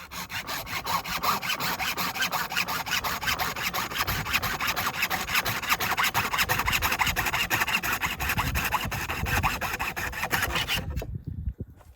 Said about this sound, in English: Since this bone is a bit long, I'm trimming it down so it fits perfectly on the grill and cooks thoroughly.